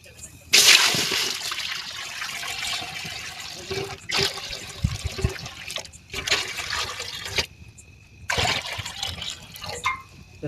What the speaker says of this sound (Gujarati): પછી એને ફરતે તપેલી ન ડૂબે એટલે થોડુંક એમાં પાણી નાખીશું આપણે